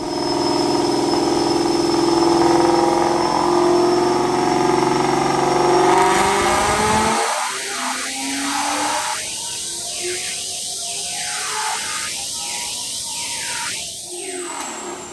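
A 2017 Mustang GT with a Paxton Novi 2200 supercharger and long tube headers screams through a full pull on a dyno, a loud sustained engine roar rising steadily in pitch, then dropping into a few sharp revving blips.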